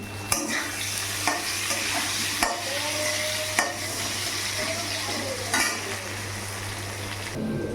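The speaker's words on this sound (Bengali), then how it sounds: "এখানে আলুটা ভাজা হচ্ছে" Oil sizzles steadily in a pan as salted potatoes fry while a utensil scrapes and stirs, with several sharp metallic clanks spaced a second or so apart.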